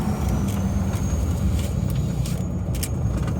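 Inside the cab of a truck with an LBZ Duramax diesel and stainless 9-blade turbo on stock exhaust, windows up, a steady low engine and road drone with a faint high turbo whine.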